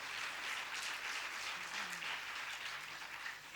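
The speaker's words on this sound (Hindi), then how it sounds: "तालियां कमजोर है।" An audience at a Ram Katha religious discourse applauds, the clapping faint but continuous throughout.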